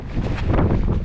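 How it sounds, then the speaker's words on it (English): Strong wind on the Franconia Ridge mountain trail buffets the microphone in a loud, steady roar with gusty rumbling, filling the short stretch with no voices. "The winds are whipping, but it's warmer than yesterday"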